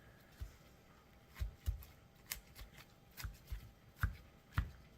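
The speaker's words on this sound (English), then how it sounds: "So I'm just dicing them up" A knife chops a red onion on a cutting board in quick, uneven taps, a dozen or so close, quiet knocks spaced irregularly with soft pauses between.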